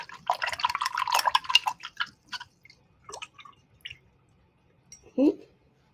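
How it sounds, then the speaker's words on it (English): An acrylic paint brush is swished and tapped in a water cup, producing short wet splashing and dripping bursts, loudest at the start and then scattered and intermittent, close to the listener. "And now I am going to wash my brush."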